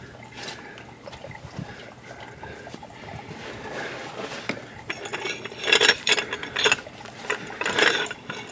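A car jack ratchets with a repeated clicking, metallic pawl rhythm as it raises the front of a Ford Edge toward the subframe, close and fairly loud, growing busier toward the end.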